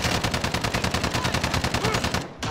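Gunfire in the shooter Warzone: a sustained, steady automatic burst of evenly spaced rapid shots, loud and close, cutting off abruptly near the end.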